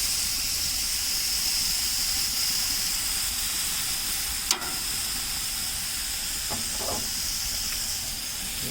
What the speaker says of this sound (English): Nice sear, nice sizzle when you throw it on.